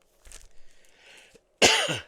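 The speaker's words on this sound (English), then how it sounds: "Still got that cough going on" A single harsh, close cough bursts out after a few seconds of faint rustling and breath, with no talking.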